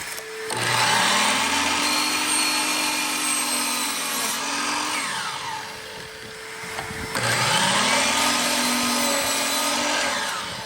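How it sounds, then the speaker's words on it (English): A stained glass saw with a small shop vac attached runs in a studio, a loud steady whine and whir with two cutting passes, a brief dip in the middle, then starting up again. "having a small shop vac attached to the back of the saw really helps out back here in the studio"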